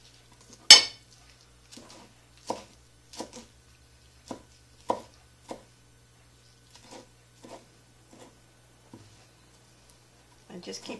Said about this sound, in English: I'm just going to chop it up.